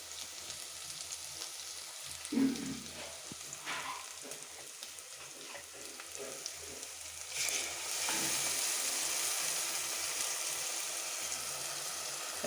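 Ground tomato hits hot oil with onions in a pan for a fish curry, giving a steady close sizzle and frying hiss that swells louder in the last few seconds, with a few brief clatters and no voices.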